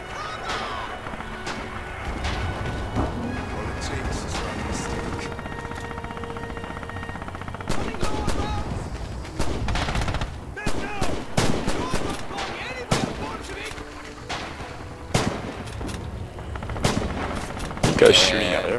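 Gunfire in the WWII shooter Red Orchestra 2: a dense battle soundscape of repeated sharp rifle and machine-gun shots with heavier booms, irregular bursts building toward the end, with voices chatting underneath.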